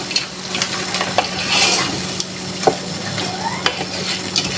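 A chicken pasta mixture is stirred in a pan, soft scraping and wet sloshing over a low sizzle, with a few light utensil taps against the pan, close and alone without talk.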